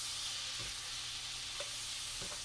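Butter melts in a corner of a pan beside sausage, giving a soft, steady sizzle and hiss with a few faint clicks and pops.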